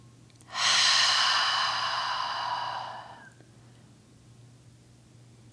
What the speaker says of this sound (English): Lots of deep breathing here.